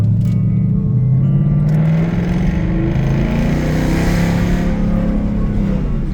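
A car engine drones loudly from inside the cabin while driving, a steady low rumble with rising pitch as it gently accelerates, continuous throughout.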